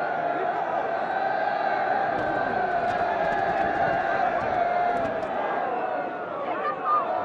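Crowd cheering at a historic arrival in Nouméa on archival film, a dense steady roar of many voices sustained throughout, with a few sharper calls and whoops rising above the wash.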